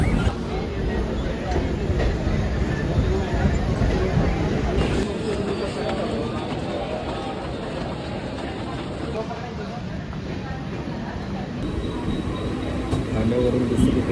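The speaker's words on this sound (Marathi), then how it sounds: "ठाण्यावरून दुसरी ट्रेन पकडलेली आहे" Inside a moving slow local train caught from Thane, a continuous low rumble and carriage clatter roll on steadily, with people talking in the background throughout.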